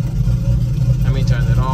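A Datsun 280Z with a turbocharged L28ET engine and Megasquirt engine management runs after start-up. It gives a low, steady idling rumble that stays close and even through the short stretch.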